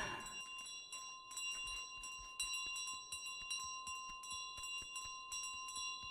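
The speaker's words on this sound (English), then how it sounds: "It's gonna be time when I drop the bell in the pit." In Untitled Goose Game, a bell rings out with a sustained, bright metallic tone as it drops into a pit, accompanied by a rapid series of soft clicks and taps at low volume.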